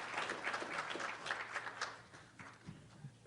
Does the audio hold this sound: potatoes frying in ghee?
no